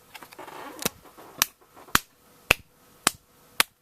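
Slow, deliberate hand claps, six sharp separate claps spaced roughly half a second apart, close and fairly loud against a quiet background.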